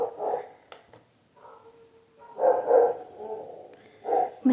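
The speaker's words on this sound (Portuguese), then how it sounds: "então os cachorros ficam latindo à toa" Dogs bark at night in a residential setting, several sharp barks in short bursts with pauses between, fairly near and loud, mixed with a few whiny yips.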